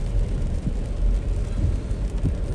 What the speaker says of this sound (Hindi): आज सुबह से ताबड़तोड़ बारिश चल रही है